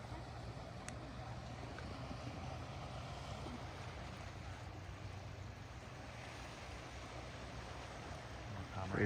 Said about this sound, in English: Hope you guys can hear the waves.